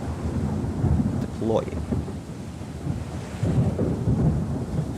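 Storm in a sailing game set off Barbados, a steady roar of wind and rain with low rumbling swells, while a voice speaks briefly over it.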